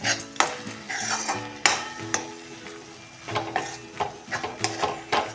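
Carrot halwa being stirred with a spoonful of milk cream in a pan, giving a steady scraping and soft sizzling with repeated sharp metal clinks of a spoon against the pan.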